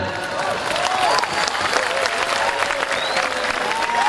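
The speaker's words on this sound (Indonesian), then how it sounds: "Tepuk tangan." A large crowd at an outdoor tabligh akbar religious gathering in Bojonegoro applauds steadily and loudly throughout, a dense wash of clapping with faint voices mixed in.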